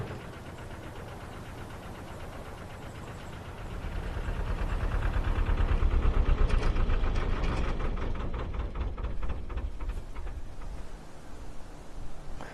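A canal narrowboat's engine ticks over at its lowest speed in shallow water, a low, steady throb that swells louder midway and then eases back, with a faint rhythmic knock running through it.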